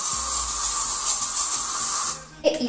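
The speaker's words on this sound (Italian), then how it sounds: "Una spruzzatina di deodorante al talco." Talc-scented deodorant sprayed in a home bathroom during cleaning, a close, loud steady aerosol hiss lasting about two seconds that cuts off sharply, followed by a brief clatter.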